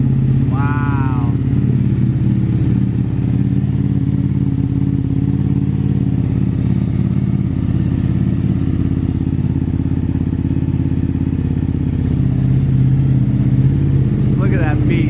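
A 2021 Ducati Panigale V2 motorcycle idles close by, a loud, steady low engine drone with a rumbling harmonic throb running throughout, and brief chirpy sounds near the start and end.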